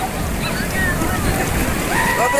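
Ocean waves surge and crash in a loud, continuous rush close by at Kashid Beach, with a voice calling out over the churning water.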